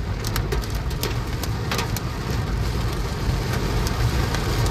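Steady heavy rain pounding down with sharp scattered hailstone impacts, over a loud broad wash of wind and vehicle rumble, during a severe storm in Crothersville, Indiana.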